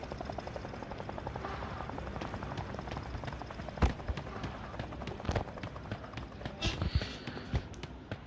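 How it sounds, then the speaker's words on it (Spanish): A helicopter in the mobile video game Sausage Man gives off a steady rapid rotor thump beneath game effects, with footsteps and occasional sharp taps over it. "acabo de ir en helicóptero"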